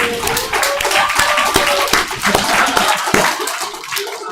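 A church congregation bursts into sustained applause right after a New Year's Eve countdown at a year-end worship service, dense and loud clapping that fills the room throughout.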